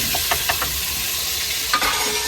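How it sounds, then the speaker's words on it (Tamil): Oil heats in a pan on board a boat at sea for swordfish curry gravy, with a continuous close sizzling hiss and a few light clicks and one sharper clatter of utensil against pan. "இப்போ எண்ணெய் முதல்ல ஊற்றிக்கலாம்."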